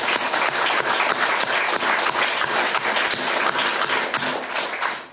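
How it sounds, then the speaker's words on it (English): An audience at an award ceremony applauds warmly and steadily, the dense clapping holding level throughout before easing slightly at the end. "I want to give him a very warm applause as well for that work."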